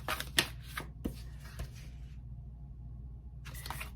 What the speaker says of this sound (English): Shuffle for a second.